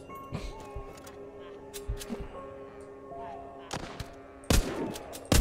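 Gunshots in The Walking Zombie 2 mobile game fire in sharp, irregular bursts, single cracks and quick doubles over a low ambient hum, with a louder cluster near the end.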